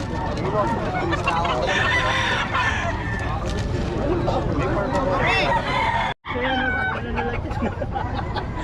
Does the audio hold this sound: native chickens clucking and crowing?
yes